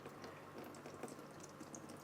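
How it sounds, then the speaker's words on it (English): Water trickling and dripping down through the soil of a potted houseplant, a soft continuous watery patter with faint bubbling, quiet and close, no voices. "I'll just let that drip through like that."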